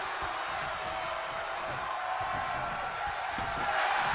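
Steady crowd roar and cheering from an arena audience in a Pancrase mixed-martial-arts wrestling video game, a continuous dense wash of noise that swells slightly near the end, with no clear voices on top.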